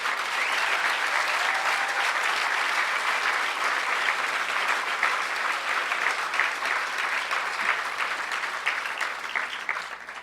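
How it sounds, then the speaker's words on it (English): A conference audience breaks into steady, even applause, many hands clapping at a constant loud level for the whole stretch before tapering slightly at the end. "So I think we should give a round of applause to Emmanuel and 2600."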